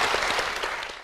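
A brief burst of clapping from a group at a lively gathering, dense rapid hand claps that fade slightly over about a second.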